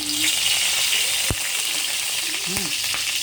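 Ground pepper dropped into hot cooking oil in a home kitchen pan, a steady close, loud sizzle and crackle throughout with a few brief clinks of a utensil.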